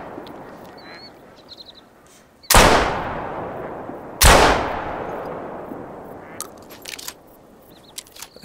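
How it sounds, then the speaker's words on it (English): Two loud, sharp gunshots ring out about two seconds apart while hunting ducks in the video game The Hunter, each with a decaying echo, amid faint quacking and then a few later, softer shots and splashes. "Three shots, three ducks."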